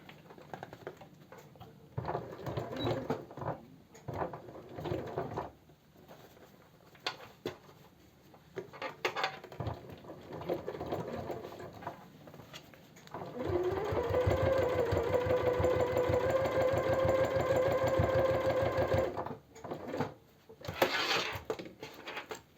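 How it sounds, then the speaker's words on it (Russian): A sewing machine runs a straight edge stitch on a fabric cosmetic bag before the zipper goes in. Short bursts of rapid stitching and handling noise lead into one long steady run of several seconds, then it stops, close up and with no speech. "Для этого просто укладываем ровно и даем строчку по краю."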